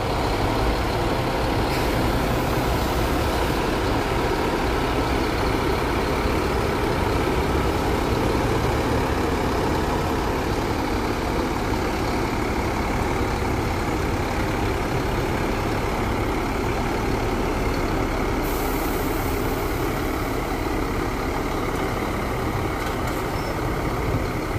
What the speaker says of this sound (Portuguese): Catarinense se preparando para dar saída aqui da rodoviária de Sorocaba